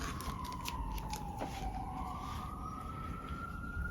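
A police siren outdoors wails in a slow rising and falling sweep, some way off and fairly faint, over a steady background rumble.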